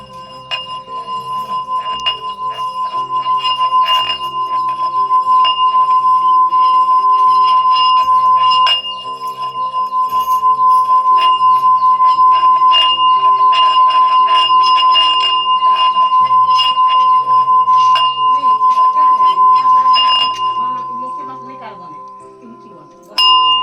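A new-style bell is struck over and over during a Kartik Purnima puja, ringing with a bright sustained metallic tone and dense repeated clangs, loud and close, while voices talk underneath throughout.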